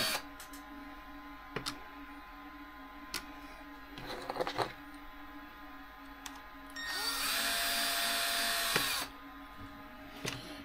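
A power drill tightens screws on a Traxxas X-Maxx RC car, with a short whir followed by a longer, steady high-pitched run, set against a quiet workshop hum.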